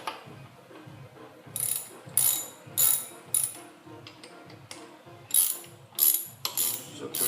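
Hand ratchet fitted with a 15/16 Snap-on socket on a front axle hub, clicking in a series of sharp, close bursts with short pauses between strokes.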